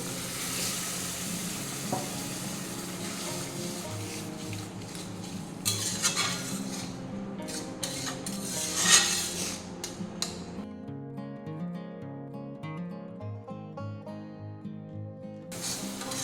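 Egg curry masala paste with cashew and melon seed paste frying in a pan, a busy sizzle with clinking utensil scrapes and stirring, dropping to a quieter simmer near the end.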